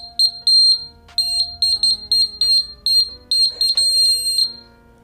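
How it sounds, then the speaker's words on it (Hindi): An electronic buzzer for a homemade door alarm sounds close and loud in rapid pulsing beeps, one continuous burst of piercing tone chopped into short repeated blasts. "तो ये आवाज़ है इस बज़र की।"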